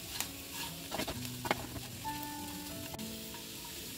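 Fried potatoes sizzle in a pan as they are stirred, a soft crackling patter with light scraping and tapping strokes, fairly quiet and close.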